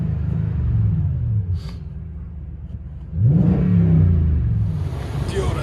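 A 2014 Toyota Tundra 5.7L V8 fitted with a Dirty Deeds cat-back exhaust rumbles deeply at idle, then revs hard about halfway through into a loud, sustained growl.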